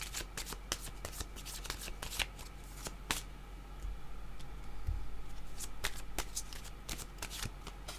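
Oracle cards shuffled by hand, giving a steady run of crisp riffling and flicking snaps that repeat for about eight seconds with no talking.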